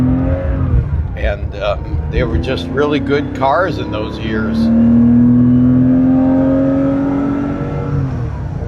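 A 1971 Porsche 911 E Targa with its 2.2-liter magnesium flat-six rises into a loud, steady rev that holds for several seconds, starting as people talk and continuing once they stop.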